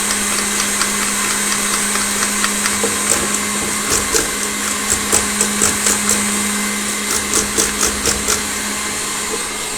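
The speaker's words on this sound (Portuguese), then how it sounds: "eu vou bater até ficar um creme da manteiga junto com os mix de adoçante" Electric mixer beating butter with sweetener into buttercream, a loud steady whirring drone close by with rhythmic clicks of the beaters against the bowl, no talk.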